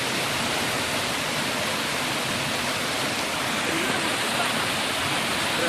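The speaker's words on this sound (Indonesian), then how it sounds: "Air terjunnya keren." Lae Singgabit waterfall in Pakpak Bharat, a steady, dense roar of falling water filling the scene continuously at close range with no break.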